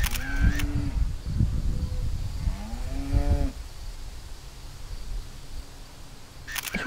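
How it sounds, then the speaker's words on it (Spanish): Two cows moo one after the other in the Gruyères region of Switzerland, drawn-out calls at moderate distance, followed by quiet outdoor ambience and a faint call at the end. "Se oyen las vacas."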